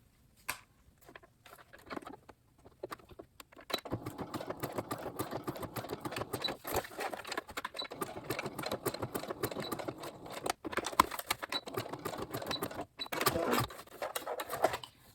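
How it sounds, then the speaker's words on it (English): A sewing machine stitches elastic strap ends onto a fabric face mask, starting with short bursts and then settling into a fast continuous mechanical patter with brief pauses, close and steady. "we're going to sew this elastic on the ends here"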